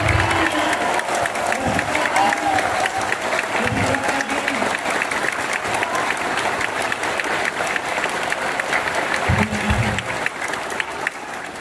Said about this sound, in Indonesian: mari kita berikan tepuk tangan 1 menit untuk para pekerja migran Indonesia